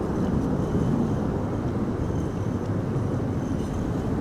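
Vueling airliner coming in to land at Amsterdam Schiphol in high storm winds, a steady loud broadband roar of jet engine and wind rushing without a break.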